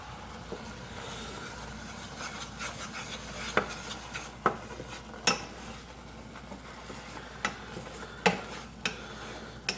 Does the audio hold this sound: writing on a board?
no